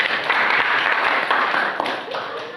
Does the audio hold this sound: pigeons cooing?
no